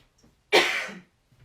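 A single short cough burst from someone who has just swallowed the wrong way, fairly close and alone, with quiet breathing before and after.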